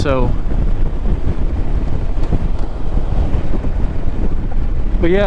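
Strong wind buffets an outdoor microphone on a very windy day, beside a Honda Rebel 500 motorcycle. A loud, continuous low rumble fills the whole stretch, and a voice is briefly heard at the start and end.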